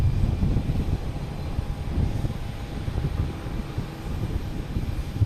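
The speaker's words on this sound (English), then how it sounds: "Next to arrive is a JetBlue coming in from Bozeman." Low, rumbling roar of a JetBlue Airbus A320 arriving at Boston Logan from Bozeman, heard from a distance with some wind buffeting the microphone, steady and fairly loud across the short stretch without any voices.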